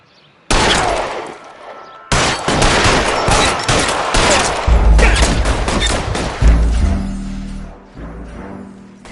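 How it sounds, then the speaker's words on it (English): Rapid bursts of gunfire from the video game L.A. Noire, a loud dense fusillade of overlapping shots and heavy booms that carries on steadily after a brief pause near the start. "All units, shots fired, officer needs help."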